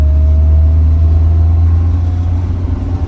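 A 1972 Volvo 144S engine hums steadily at low revs in second gear from inside the cabin, a deep, loud, even drone with faint mechanical tones and no voices.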